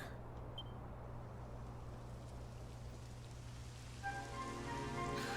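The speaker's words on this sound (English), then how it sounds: "It would have to go and start raining, wouldn't it?" Steady rain patter from the video game Dragon Quest XI S fills the background as a soft, even hiss, with a low hum underneath and a brief tonal sound rising near the end.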